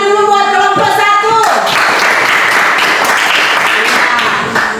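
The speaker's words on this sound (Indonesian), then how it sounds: "Tepuk tangan dulu buat kelompok 1." A classroom group claps for group 1, a burst of many hands that starts after a voice speaks and continues as dense, loud applause before fading slightly.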